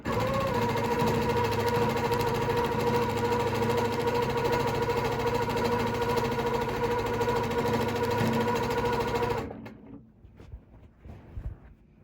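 A domestic sewing machine runs at a steady, fast, whirring hum while free-motion quilting an all-over heart design on a quilt top, then stops abruptly, leaving quiet handling sounds.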